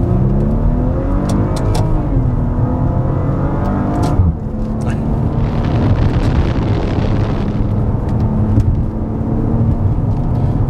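A Maserati Levante Modena accelerating hard, a loud close engine roar rising in pitch through gear changes, with wind rush and a short lull before the pull builds again.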